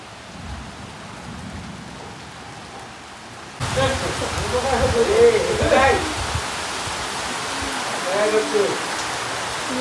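Heavy first-of-season rain pours down on a village in Vaibhavwadi, Konkan. A soft hiss swells abruptly into a loud, dense downpour, and voices talk over it.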